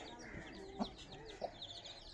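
Hens, including a black hen, cluck softly with their chicks in a backyard flock of country poultry. Faint, scattered clucks and peeps sit under a low murmur of background noise.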